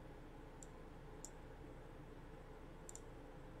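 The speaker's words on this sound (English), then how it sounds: "you're going to go to eczema.exe, double click it." Faint, sharp computer mouse clicks sound alone in a quiet room: single clicks spaced apart, then a quick double-click near the end.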